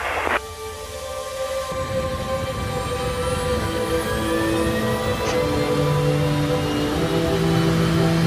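Virgin Galactic carrier aircraft engines spooling up for takeoff at Mojave, a loud, steady roar with rising whining tones that grows gradually stronger over several seconds.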